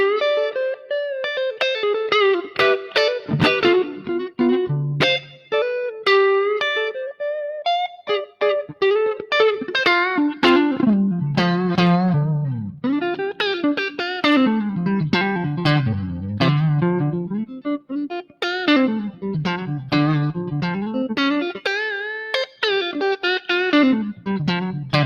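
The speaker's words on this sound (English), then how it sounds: "Front pickup, this is a clean sound," A clean 1974 Fender Stratocaster on the front pickup plays melodic lines and chords alone, warm and rounded with a light reverb tail ringing after the notes.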